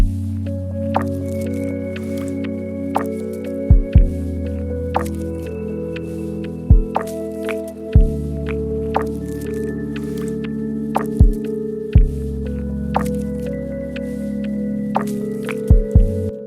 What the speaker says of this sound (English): Sometimes I just randomly pick up some like this nature stone sounds or water sounds to put it between the track